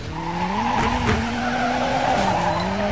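Rally car in the WRC5 video game drifts with loud, sustained tire skidding over a droning engine, continuous for a few seconds with no talking.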